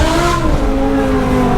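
A stroker V10 BMW M5 revs hard and close, a loud, dense engine howl that swells and holds its pitch for a brief burst with nothing else over it.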